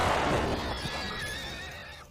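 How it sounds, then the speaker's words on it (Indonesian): A horse in the 2016 film Lady Macbeth gives a loud, close whinny that trails off into fainter snorting and shuffling, with no voices over it. "Rin juga menembak kendaraan atau kuda Alex"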